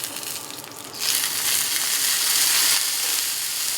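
Porterhouse and ribeye steaks sizzle loudly on a hot griddle top, a steady dense hiss that swells after the first second and holds on without any talk.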